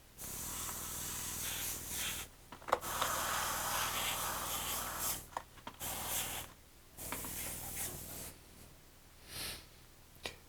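Airbrush spraying paint onto a foam RC warbird plane, a steady hiss in several long bursts separated by short pauses, close and fairly loud with no talking.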